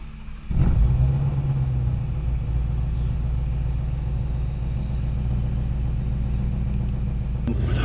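A 2017 Shelby GT350 with active exhaust starts with a sharp bark, then sits in a deep, rumbling idle, close and loud, with no talking.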